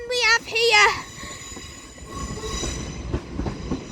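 Several trains roll through Crewe station on the West Coast Main Line, with sharp wheel squeals rising and falling over a steady rumble of rail wagons and clattering track noise, close and loud.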